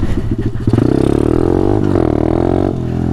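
A pit bike motorcycle is ridden close by, its small engine chugging unevenly at first and then revving up into a loud, steady buzzing drone.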